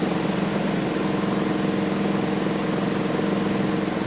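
Wood lathe spinning a spalted sweet gum bowl blank at slow speed, a steady close motor hum with a faint rhythmic pulse from the rotating blank, continuous and unbroken, no talking.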